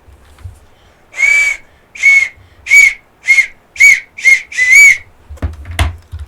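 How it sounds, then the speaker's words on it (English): A person whistles a short tune of about seven clear notes in a steady rhythm, close and loud, followed by a few faint knocks. "Whistle time."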